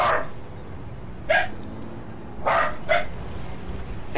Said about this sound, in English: Hey, what the heck, dogs?